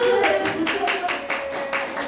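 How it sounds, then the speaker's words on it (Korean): Children clapping in unison at a church elementary winter Bible school, about eight sharp rhythmic claps in an even beat, fairly close, with a voice and a faint tone continuing underneath. "박수!"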